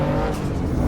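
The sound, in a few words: race car braking with tire squeal, Assetto Corsa EVO video game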